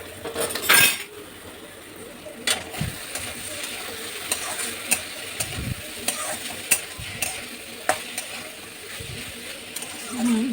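Ash gourd with shrimp fries in a pan while a utensil stirs it, giving a soft sizzle under scattered scrapes and metallic clinks against the pan, close and fairly quiet, with no talking.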